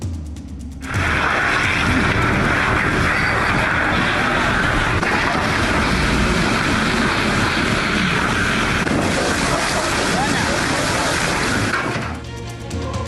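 Russian fighter jets over Ukraine's Sumy region during the war give a loud, steady, broadband roar that sets in abruptly, holds for about eleven seconds, then drops away.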